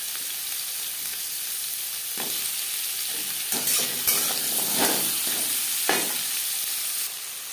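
Spinach ghonto cooking in a pan, with vegetables stirred through a steady close sizzle and several louder scraping strokes of the spoon over the hiss.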